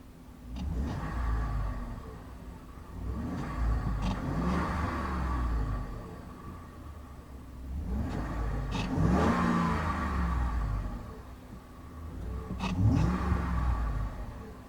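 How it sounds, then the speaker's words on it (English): A 2011 Ford F-150 King Ranch pickup's twin-turbo V6 engine revs up and settles back several times in rising and falling surges, deep and close, with no talking. "Now we'll go ahead and see how this thing sounds."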